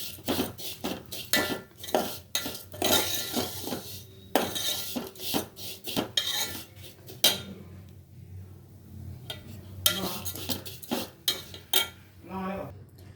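Vermicelli roasting in a pan for semiya payasam, stirred with a utensil that makes repeated clinking, scraping strikes against the metal in an irregular rhythm, with brief quiet gaps and someone speaking softly at times.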